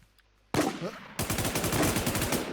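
Automatic gunfire in the online survival shooter Infestation, a sharp burst of shots, then a rapid steady volley of close, loud rounds following a near-silent start.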